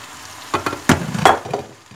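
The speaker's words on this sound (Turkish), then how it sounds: "Ardından doğradığım kabakları ilave ediyorum." Chopped zucchini hits a hot pan with tomato paste and is stirred: brief sizzling bursts and a few scraping, clinking strokes of a utensil, close and fairly loud, with no talking.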